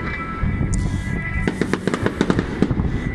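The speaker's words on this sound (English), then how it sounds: "it's raining, of course, as it does on fireworks night" Fireworks crackle and pop in a rapid burst of sharp bangs on a rainy fireworks night in a street, fairly close, following a quieter stretch of rumbling background.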